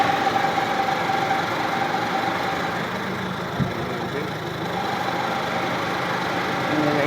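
A Toyota Vios second-generation engine idles roughly and shakes at a stop, a steady low rumble with slight unevenness and one brief knock midway, heard close up without talk.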